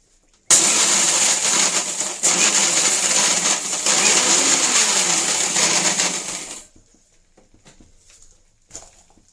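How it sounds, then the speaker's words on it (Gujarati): An electric mixer grinder crushing edible gum (gond) in a home kitchen, a loud, harsh whirring grind that runs for about six seconds and then stops, followed by faint clicks. "એટલે આપણે મિક્સરમાં આને દરી લેવાનો છે."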